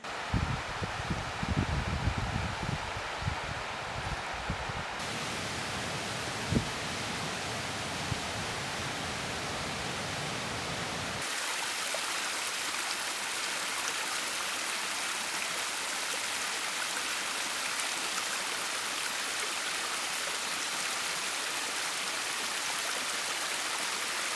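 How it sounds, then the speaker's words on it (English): Running water of a stream in a snowy forest at a winter bushcraft camp, a steady broadband rush that continues alone throughout, with some rustling and handling sounds early on. "You just hear that running water"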